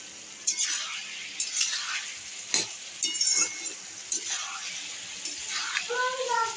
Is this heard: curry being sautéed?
yes